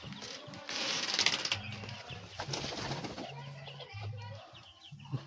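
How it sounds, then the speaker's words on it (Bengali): King and Lakkha breed pigeons in their loft, with a burst of close wing flapping followed by repeated low, soft cooing in a quiet space. "কিং আর লক্ষাগুলো ভালোই ঘুরছে।"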